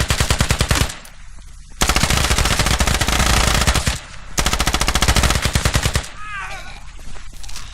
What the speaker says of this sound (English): Nice shooting from the stairs.